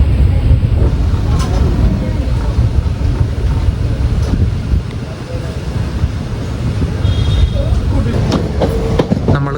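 A train pulls out of Ollur railway station in Kerala, heard from on board as a loud, steady rumble with rhythmic clickety-clack of wheels over rail joints and wind noise throughout.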